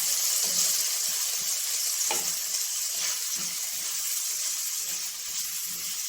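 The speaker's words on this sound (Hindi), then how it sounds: "थोड़ा सा इसे हमने रोस्ट करके ताकि ये नरम हो जाए" Capsicum roasting in olive oil, giving a steady close hiss and sizzle with a few soft stirring scrapes.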